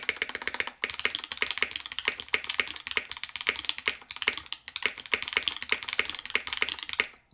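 Fast, continuous typing on a custom Gehirn60 mechanical keyboard, with dense, close clacking keystrokes and spacebar thocks running almost without pause.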